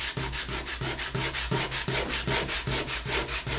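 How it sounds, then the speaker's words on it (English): Rhythmic back-and-forth scraping of sandpaper on wood, about ten even strokes in steady succession, close and clear. "then I'll sand to get the rest of it"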